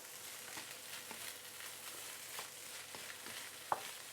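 Quiet, steady sizzling of light soy sauce hitting a hot wok edge while making lap cheong fried rice, a soft crackling hiss with faint scattered pops and one brief sharper tick near the end.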